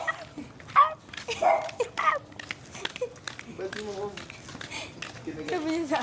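A dog barks and whimpers in short excited yelps up close, mixed with lively talking from several people, including a voice.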